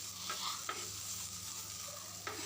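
Chicken and potatoes frying in a pan give a steady, quiet sizzle close by, with a few soft scrapes as the spatula stirs and no talking.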